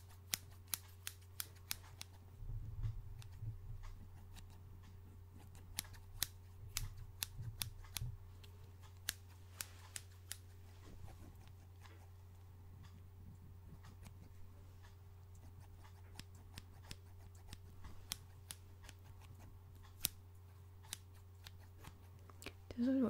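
Repeated close scissors snips picked up on a Blue Yeti microphone during an ASMR mic test, sharp irregular clicks scattered across a quiet background hum.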